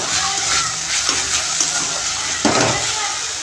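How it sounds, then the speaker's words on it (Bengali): Tap water runs and splashes while puja plates and utensils are washed, a continuous gushing stream with brief louder clatters and splashes near the end, and a voice murmuring in the background. "ঠাকুরের থালা বাসন করে মেজে নিয়ে আসি"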